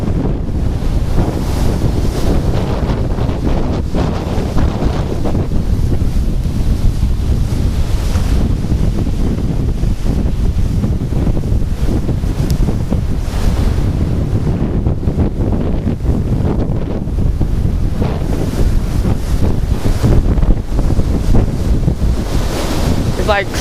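Very high winds in a snowstorm in St. Louis, Missouri, roar and buffet the microphone continuously, loud and gusting, with brief talk buried beneath the rumble.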